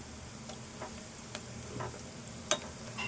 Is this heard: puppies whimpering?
no